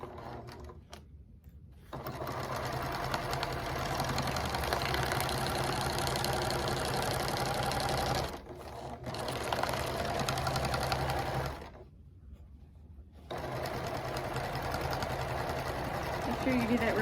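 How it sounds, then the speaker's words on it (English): Sewing machine stitching a clear vinyl drawstring tote bag, running in steady buzzing bursts with a couple of short pauses as the work is turned at a corner, heard fairly close at moderate volume. "I'm going to leave that needle down and turn it, and then sew up the other side"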